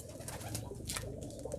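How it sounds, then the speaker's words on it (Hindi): A pigeon hen coos softly a few times in a loft of a pigeon keeper, low gentle calls over background hiss with no speech. "ये कबूतरी है"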